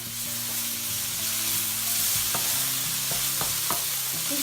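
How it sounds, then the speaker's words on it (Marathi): Ginger-garlic paste sizzles loudly in a hot pan for baingan bharta while a spoon stirs it, a continuous close frying hiss broken by a few sharp scraping clicks. "आणि आता मी त्याच्यामध्ये आलं लसूणची पेस्ट टाकते."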